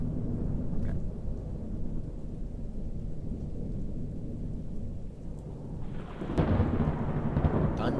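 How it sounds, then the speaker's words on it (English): Deep rolling thunder in a Five Nights at Freddy's open-world video game, a long low rumble with rain, swelling into a louder, harsher crash near the end, with no talking. "Thunder."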